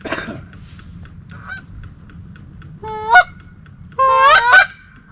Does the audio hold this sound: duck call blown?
yes